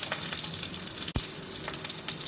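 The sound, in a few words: crushed garlic frying in oil in a pan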